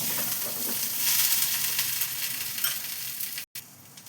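Fried potatoes being stirred into Gobindobhog rice in a pan for chal potol make a steady close hiss and sizzle of frying, with faint scraping of the stirring and a brief dropout near the end.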